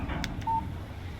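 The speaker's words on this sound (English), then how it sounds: "Text message from Barry" A phone's text message alert in the Alan Wake video game sounds as a short, faint electronic tone over low background hum.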